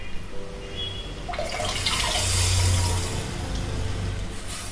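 Water pours into a pan to dissolve tamarind for a South Indian dish, a steady splashing rush that swells in the middle and then settles, with no talking.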